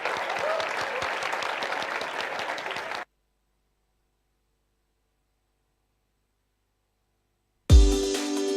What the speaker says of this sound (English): Please do show them some love with a round of applause before I get off stage.